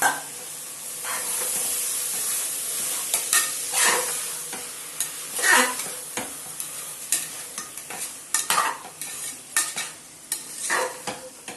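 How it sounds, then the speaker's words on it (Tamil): Vegetables for biryani sautéing in a pan, a steady close sizzle broken by repeated scraping stirs of the spoon that come in uneven bursts, with no one speaking. "பாருங்க இது நல்லா வதங்கிட்டு இருக்கு"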